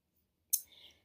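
One crisp, close computer mouse click, a quick bright tick followed by a faint rattle, heard alone in near silence.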